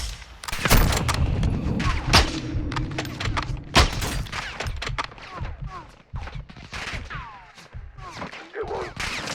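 Gunfire in a shooter video game on Veteran difficulty: repeated sharp gunshot cracks and thuds come in bursts and scattered single shots, with game noise throughout.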